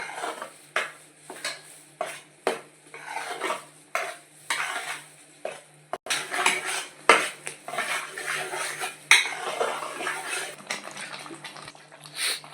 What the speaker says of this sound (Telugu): పీతలకి ఇలా మసాలా ఇలా వేపుకోవాలండి ఆయిల్లో